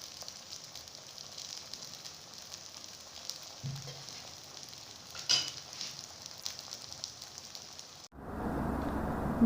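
Egg paratha fries in ghee on a pan with a faint, steady sizzle for several seconds, followed by a louder rush of hissing near the end.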